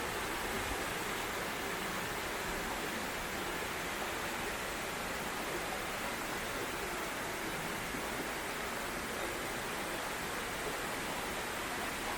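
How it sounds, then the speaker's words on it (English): A waterfall beside a mountain trail on Mt. Kongo in Japan roars as a steady, faint wash of falling water, unbroken for the whole stretch with no talk. "You can almost feel the mist coming off the waterfall to here"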